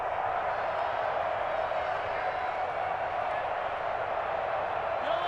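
A steady, dense stadium crowd roar from the football game Madden NFL 21, with Chiefs against Packers, forming a continuous, even wash of noise without peaks.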